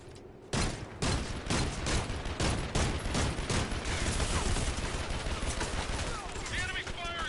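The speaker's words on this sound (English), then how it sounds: "The enemy's firing on me." Enemy gunfire in a Metal Gear video game, sustained rapid automatic bursts with sharp repeated cracks, loud and close, continuing for several seconds after a brief quiet start.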